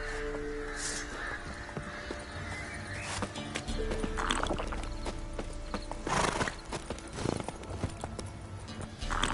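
Clip-clopping hooves of Roach, a horse in the game The Witcher 3, moving in an uneven rhythm alongside whinnies and snorts, with scattered knocks and creaks in the background and no talk.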